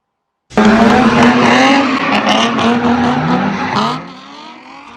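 During an illegal street takeover, a car starts abruptly with loud revving and screeching tires, skidding close by for several seconds before the noise fades.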